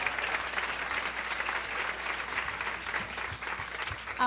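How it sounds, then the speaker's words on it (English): A crowd at a 10th anniversary gathering gives a steady round of applause, dense and even throughout, heard alone with no voices over it. "Let's give them a round of applause, everyone"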